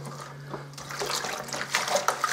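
Spray malt pours into boiling water for an English ale home brew, giving a soft rushing, liquid pouring sound close by with a steady low hum underneath and no talk.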